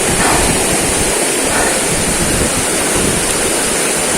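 A river rushes steadily and loudly during a hike toward a waterfall in General Nakar, Quezon, a constant close roar of flowing water with no breaks or voices.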